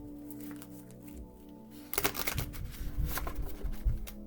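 Tarot cards being shuffled close up: a quiet riffle first, then a louder burst of rapid flapping and snapping that continues to the end.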